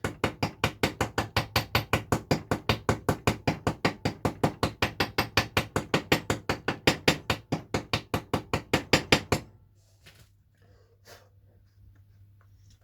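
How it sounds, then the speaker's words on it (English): Hammer striking rivets on a short, thin metal piece with a loose wrist action, a rapid, steady run of sharp metallic blows for about nine seconds, then stopping, leaving quiet room noise. "it's all a wrist action, and it's just using the weight of the hammer"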